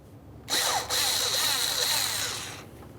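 A power driver whirs steadily while backing a small screw out of the cooling fan assembly of a 2011-2021 Jeep Grand Cherokee, with one brief high-pitched whine lasting about two seconds before it winds down, close up.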